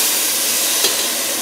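Vegetarian chunks fry in a pan with low-calorie cooking spray, garlic and chilli, giving a loud, steady, close-up sizzle and hiss with one brief spit near the end.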